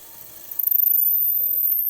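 A drill bit bores into maple wood on a Porper Q-Lathe Model B, a faint rising whir building into a steady grinding hum with a quiet tone beneath.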